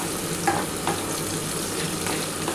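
Onion and tomato frying in a pan with green chillies and chilli powder, a steady close sizzle with a few sharp scraping stirs of a spatula.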